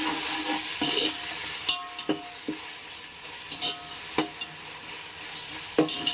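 Ginger and garlic sauté with onions in hot oil for a vegetable biryani, a steady close sizzle broken by regular scraping stirs of a spatula against the pan.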